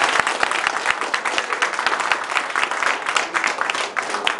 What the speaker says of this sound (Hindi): ये बार जोरदार ताली बजाइए